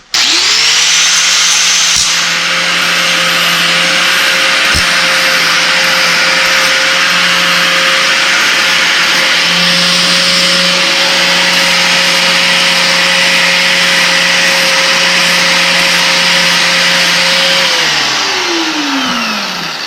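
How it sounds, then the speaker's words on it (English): An angle grinder fitted with a flap disc smooths sharp metal edges. It spins up at the start, holds a steady, loud whine with a grinding hiss for about seventeen seconds, then winds down at the end. "So now I'm just going to take a flap disc around the edges,"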